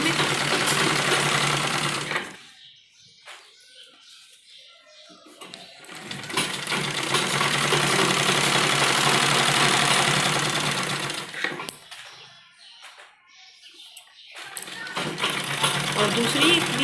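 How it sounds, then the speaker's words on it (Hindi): An electric sewing machine stitches along folded fabric for a semi-Patiala salwar, running in loud rapid bursts close by with two short pauses between runs. "तो पूरा कपड़ा इस तरह फोल्ड करते हम सिलाई लगाएंगे इसके ऊपर बीच में।"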